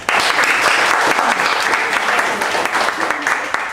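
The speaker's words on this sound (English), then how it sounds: "So a round of applause for Eric" An audience at a school outdoor-education presentation gives Eric, a camp operations manager, a short, loud burst of applause, with some voices audible beneath the clapping.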